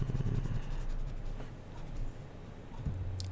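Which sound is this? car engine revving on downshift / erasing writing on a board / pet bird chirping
erasing writing on a board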